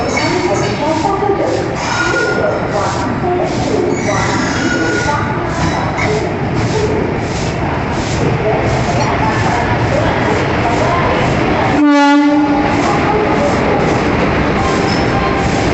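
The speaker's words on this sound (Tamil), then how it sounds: "இங்கே இருக்கிற நடைமேடையே வைப்ரேட் ஆகுது ட்ரெயின் போகிறதுனால" A train with a red engine rumbles steadily past a station platform at close range, loud and continuous, with a crowd talking beneath it and a brief sharp horn-like blast near the end.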